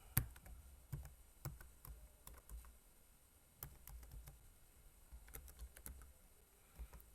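Keys clack on a computer keyboard as a password is typed, a quiet, close series of irregular taps with short pauses between bursts.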